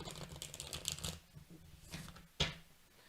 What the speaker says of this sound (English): Let me just shuffle the remainder of the deck.